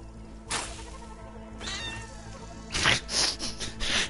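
In the game Assassin's Creed Origins, a cat meows and yowls as it is killed, giving several loud strained cries in short bursts, with the last ones coming harsh and close together.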